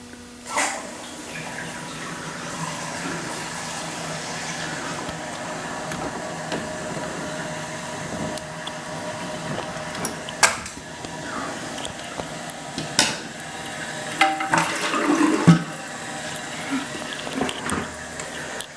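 A toilet tank refills with water after its supply valve is opened, a steady low rush and hiss running throughout with a few faint clicks and knocks, no voices.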